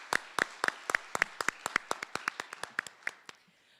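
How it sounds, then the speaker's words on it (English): A small audience gives a round of applause, with sparse, distinct claps in a quick uneven rhythm that taper off after a few seconds. "let's go ahead and give her a round of applause"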